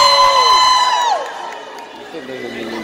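An outdoor crowd at a brass band concert in Gorky Park, Kharkiv, cheers and whoops loudly, with a sustained shout that slides down and fades into a quieter murmur.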